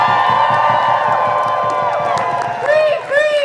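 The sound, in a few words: applause and cheering from crowd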